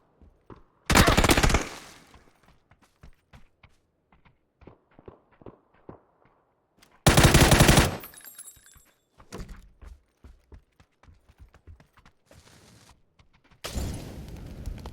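Gunfire in a shooter video game: three loud bursts of rapid shots, with many sharp clicks, thunks and footstep-like taps between them and no talk.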